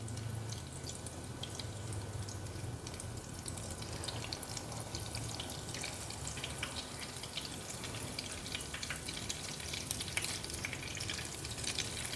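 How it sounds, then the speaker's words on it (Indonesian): Egg-coated odeng sausage rolls deep-frying in hot oil: a steady, close, crackling sizzle that runs on without a break for about twelve seconds, with no talk. "langsung kita masukkan di dalam minyak panas"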